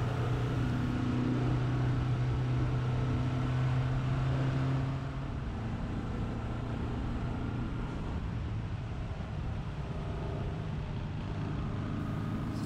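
A 1982 Moto Guzzi 850 Le Mans Mark III motorcycle accelerates uphill under open throttle, its steady, loud engine drone overlaid with rushing wind noise throughout.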